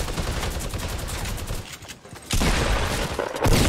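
Fortnite Battle Royale duo match gunfire, with dense, loud bursts of shots and explosive noise packed close together, a short lull, then another heavy volley, with no speech.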